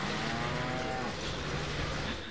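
A cow moos in a long, low drawn-out call within the Deadpool video game, heard against a dense, noisy background of game sound.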